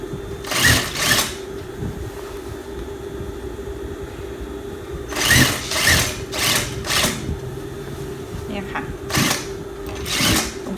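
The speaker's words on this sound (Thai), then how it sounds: "แล้วเราก็เย็บตามรอยขีดใหม่ตรงเป้าเลยค่ะ" Sewing machine stitching a trouser crotch seam runs in several short bursts of rapid whirring, loud and close, with a steady hum between bursts.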